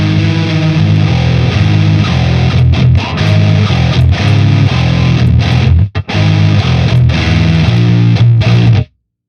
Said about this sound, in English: I realize it's way too distorted too, so I could like just turn the distortion down for once.